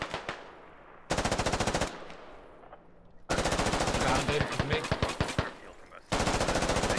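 Bursts of automatic rifle fire in the military shooter game Squad, rapid and loud, in three long strings separated by quieter gaps with scattered single shots, over faint background sound.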